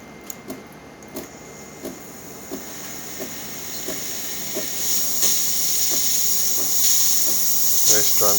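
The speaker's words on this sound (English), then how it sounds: "Nice strong steam." The steam wand of a Delonghi Magnifica espresso machine, a steady hiss that builds from a soft start into a loud, bright rush, with a regular ticking pulse from the machine beneath it.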